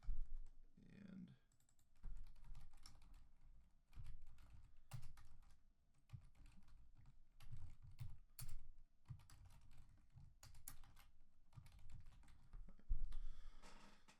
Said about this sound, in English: we're just going to type out this.